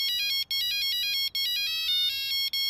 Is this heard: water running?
no